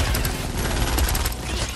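Gunfire in Fortnite Save the World, a dense continuous rattle of rapid shots and blasts running loud and unbroken through the short clip.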